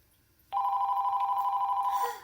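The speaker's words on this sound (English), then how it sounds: "And I have a phone call." A telephone ringing loudly and steadily, a sustained electronic bell tone that starts abruptly and holds for about a second and a half before fading, alone without talk.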